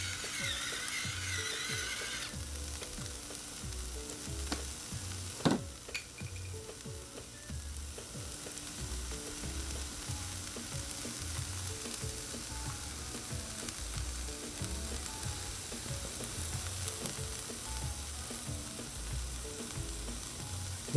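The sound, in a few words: chicken sizzling on a griddle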